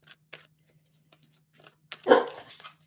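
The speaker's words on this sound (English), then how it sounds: "I'm hoping this puppy just kind of calms down, but she's not seeming like she's going to calm down" A young visiting puppy lets out a loud, close yap after a stretch of near silence broken only by faint clicks and rustles, then yelps again more briefly.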